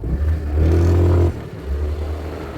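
An RKS Grace 202 motorcycle accelerates on the road, its engine droning loud and close, rising through a rev before a gear change drops the pitch and it pulls again, with wind rush.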